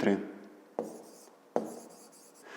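A pen scratches across paper in close, quiet strokes while maths work is written out, with two sharper taps marking new strokes, after a brief voice at the start.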